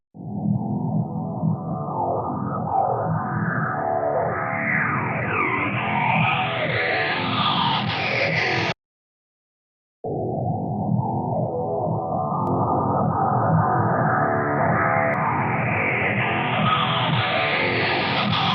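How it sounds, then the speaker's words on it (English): A metal track intro runs through a free Frequency Echo phaser-type plugin, producing weird sweeping, rising tones over dense distorted sound; it plays loud for about nine seconds, cuts to a brief silence, then resumes with the same climbing sweep. "let's try some kind of phaser type effects using frequency echo"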